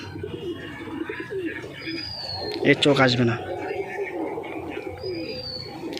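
Pigeons of chotial and black dana breeds coo softly in the background at a home where pigeons are sold, with one louder burst of cooing midway, while a person talks nearby.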